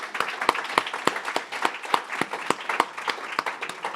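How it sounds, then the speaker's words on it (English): An audience at a lecture applauds, a moderate burst of clapping from a modest crowd with individual claps distinct and steady throughout. "Can you join me in giving them a round of applause?"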